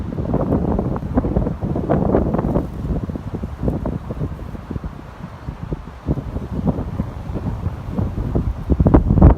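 Gusts of wind buffet and roar beside a canal at a woodland camp, rising and falling in uneven surges with rustling bursts throughout.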